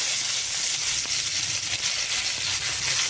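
Curry leaves dropped into hot oil where mustard seeds have already popped, a dense steady sizzle and hiss with faint crackles, close and continuous, no talk.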